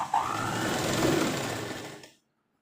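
A sewing machine stitches a churidar pant in one steady, close whirring run that holds for about two seconds before cutting off abruptly into silence.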